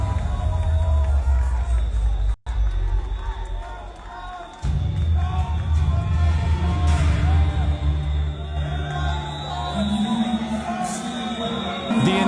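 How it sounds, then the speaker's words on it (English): A huge Eurovision 2025 arena crowd booing and roaring during Israel's performance, a dense, loud wall of jeering voices and noise that carries on throughout, briefly cutting out once. "The entire arena was booing, making noise, not in a positive way, but in a negative one"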